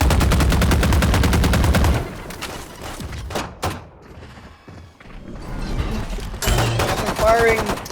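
Rapid automatic gunfire rattles in a competitive shooter match, a dense burst followed by scattered shots, thuds and a quieter gap, then more firing, with a caster talking over the action.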